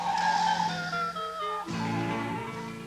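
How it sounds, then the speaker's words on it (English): A car brakes hard with a long, loud, high tire squeal that fades into a low engine rumble, heard close and with no talking. "He roars up to lights. He slams on his brakes."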